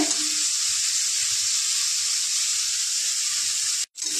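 Prawns frying in regular cooking oil hiss and sizzle loudly and steadily up close, broken by a brief silent cut near the end before the sizzle resumes.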